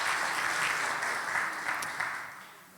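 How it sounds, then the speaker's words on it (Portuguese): A church congregation applauding during a Portuguese-language service, dense sustained clapping that fades gradually toward the end. "Você pode aplaudir ao Senhor?"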